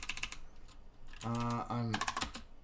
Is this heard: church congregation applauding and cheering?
no